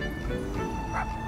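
A dog in GTA 5 barks and yips after being run over by a vehicle in the game, one short sharp bark rising over steady engine and game background noise.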